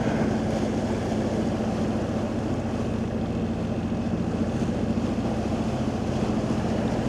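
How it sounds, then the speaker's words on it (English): A steady, low rumbling engine idles continuously, with a constant hum and some wind or water wash around it. "Whereas this is just the tick over the engine"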